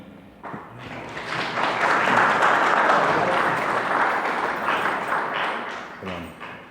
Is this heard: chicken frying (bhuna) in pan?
no